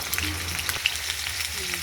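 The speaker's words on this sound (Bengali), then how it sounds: "আলুটা ভাজা বসিয়ে দিয়েছি" Potatoes fry in hot oil in a kadai, a continuous close sizzle with small crackles and light clinks scattered throughout, fairly loud and without speech.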